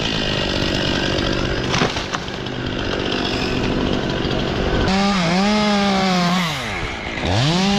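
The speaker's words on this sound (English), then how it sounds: "The chainsaw roars furiously as the main trunk falls" A chainsaw fells a tree trunk at height, snarling loudly and continuously up close, then revving with rising and falling pitch swoops near the end.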